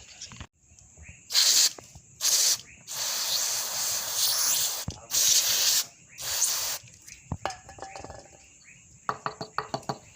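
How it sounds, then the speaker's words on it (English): Aerosol cleaner sprayed onto the mass airflow and MAP sensors of a 2009 Nissan Navara with faulty injectors, heard as several loud hissing bursts of varying length, one long sustained blast, followed by light clicks and handling. "so I'm gonna spray out this mass airflow and the map"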